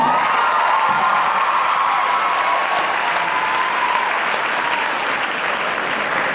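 A crowd at a high school graduation ceremony claps loudly and steadily throughout, a dense wash of applause with faint scattered cheers.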